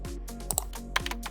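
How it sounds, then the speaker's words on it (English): Typing on a keyboard into a device console for an embedded board, a quick, close series of crisp key clicks in an uneven rhythm, heard alone. "When it is on, type anything in the console."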